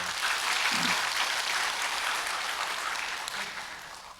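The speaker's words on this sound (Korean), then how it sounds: "박수 한번 해주세요" A church congregation applauds at a Korean dawn prayer service, a dense, steady wash of clapping that holds for the whole stretch and eases slightly toward the end.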